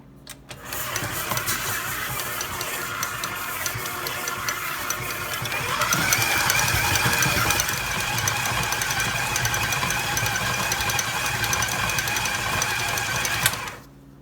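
A stand mixer with a paddle creams butter with brown and white sugar, the motor whirring loudly and steadily, rising in intensity partway through before cutting off at the end.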